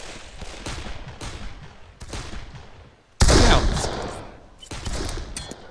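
Bursts of automatic gunfire from the first-person shooter game Darkest of Days, dense repeated volleys with a loud heavy burst midway and more firing after, close and continuous at times, with faint voices underneath.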